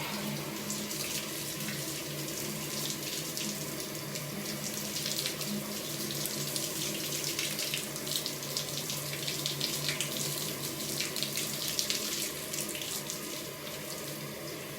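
Water gushing steadily from a tap into a bath being filled, a continuous bright hissing splash that stays constant throughout with no talking.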